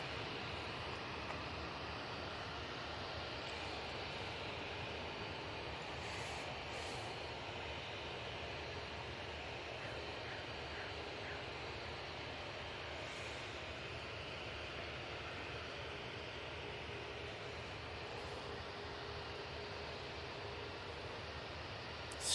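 An Emirates airliner's engines roar steadily at takeoff, a broad, unbroken wash of jet noise that holds at an even loudness for the whole stretch, with no voices.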